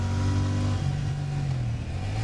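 A Royal Enfield Shotgun 650 twin-cylinder bobber motorcycle engine drones steadily while riding on the road, with a deep, even hum that shifts pitch slightly as the throttle changes, loud and close, with wind rush behind it.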